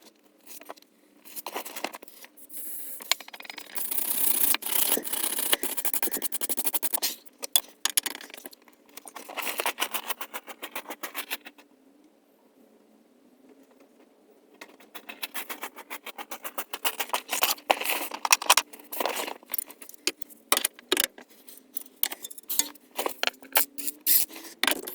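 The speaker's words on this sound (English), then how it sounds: "I've set about now just unbolting the anti-roll bar link" Hand tools work on the anti-roll bar link of a VW T4 Transporter during a suspension overhaul: close metallic clinks, ratcheting and scraping come in irregular bursts, with a quieter pause in the middle.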